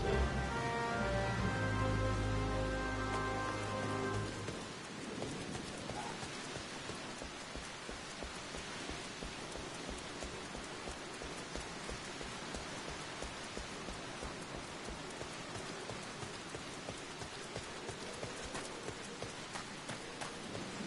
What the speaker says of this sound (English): the rain is something else.